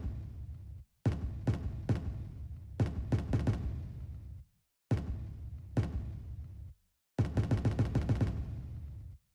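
Fireworks sound effects from a children's drawing app burst in rapid crackling volleys, sharp bangs clustered in four loud bursts separated by brief silences.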